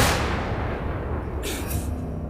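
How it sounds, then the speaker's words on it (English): A gunshot from a real gun in an anime episode: a sharp boom at the start decays into a rumbling tail, followed by a couple of brief high crackling bursts, fairly loud. "That sounded like a gunshot. An actual gun."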